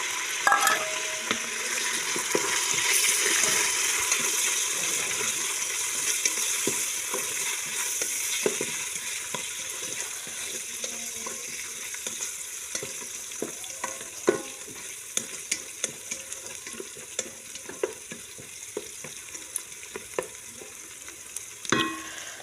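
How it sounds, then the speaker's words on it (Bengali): Sliced onions frying in hot oil in a home kitchen pan, a steady close sizzle with repeated scraping strokes of a spoon stirring them, no talking. "পেঁয়াজগুলো ভাজা হয়ে গেছে"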